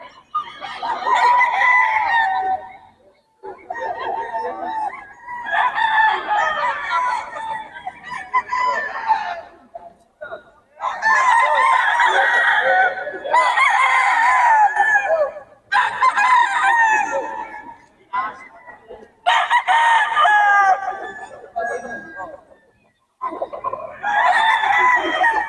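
Roosters crow repeatedly and loudly close by while chickens cluck among them, in a busy, near-continuous run of calls with short pauses, suggesting a flock of quality fowl offered for sale.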